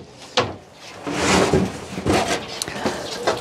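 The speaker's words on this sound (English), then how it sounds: "Take out those dividers." Dividers being pulled out of a bird aviary cage give a few short knocks and wooden scrapes with rattling clatter, close and moderately loud, with no speech.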